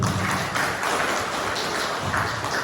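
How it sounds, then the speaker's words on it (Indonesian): An audience applauds a student speaker at a Maulid gathering with IAINU Tuban students, a fairly loud, dense patter of clapping that holds steady for a few seconds with no one talking over it. "Tepuk tangan untuk saudara kita tadi."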